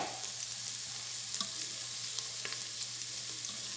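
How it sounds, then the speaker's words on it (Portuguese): Chopped onion sautéing in a pan as the base for a beef and vegetable soup, a soft continuous sizzle with a few faint stirring clicks, no voices. "A cebola tá refogando."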